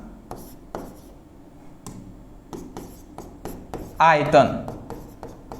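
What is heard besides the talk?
writing on a board during a chemistry lesson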